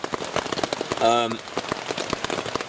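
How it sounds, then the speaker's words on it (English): Torrential rain drumming on a tent during a solo wild camp, a dense steady patter close by, with a brief tonal voice-like sound in the middle. "now I'm just left with this torrential, awful rain."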